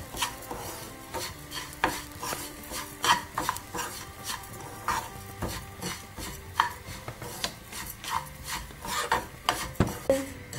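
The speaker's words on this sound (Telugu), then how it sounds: "ప్లేట్లో ఇప్పుడు అదే నెయ్యిలో ఈ గోధుమ రవ్వను వేసేసి వేయించుకుందాం." Wheat semolina roasting in ghee in a pan, stirred steadily with a rhythmic scraping, gritty rasp as the utensil drags through the grains, close and fairly quiet with no talking.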